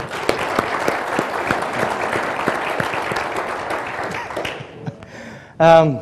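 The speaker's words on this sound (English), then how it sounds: "Let's give them a round of applause." An audience applauds the organisers of a keynote event, a dense, loud burst of clapping that thins out and fades toward the end before a voice begins speaking.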